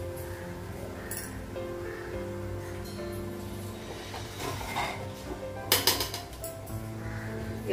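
A lid is set onto a cooking pot with a brief metallic clink and clatter in a home kitchen, heard over a steady hum of background noise.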